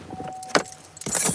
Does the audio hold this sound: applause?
no